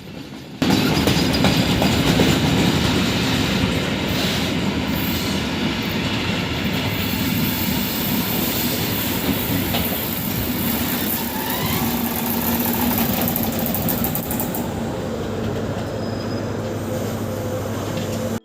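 A railway train carrying GTK Boxer armored personnel carriers and tracked all-terrain vehicles in Germany rumbles past steadily and loudly, with continuous rolling and clattering wheel noise and no speech.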